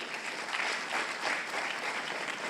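Applause rises from an audience at a public address in Djibouti, a soft, fairly distant wash of clapping that swells slightly midway and carries on without talk.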